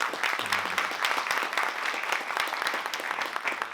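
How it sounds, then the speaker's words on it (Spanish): Audience applause during a talk at the Santiago Horror Film Festival, continuous close clapping from a seated crowd at steady volume for several seconds. "un aplauso muy grande para Ernesto Díaz, director."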